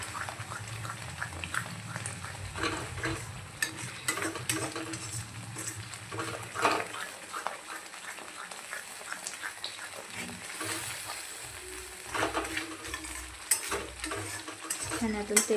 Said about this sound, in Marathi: ही ग्रेव्ही आपल्याला छानपैकी आता मसाला तेलामध्ये अशी परतून घ्यायची आहे